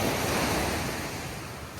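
Waves breaking on a seashore at a river mouth, a loud continuous wash of surf with wind rushing across the microphone, fading a little toward the end.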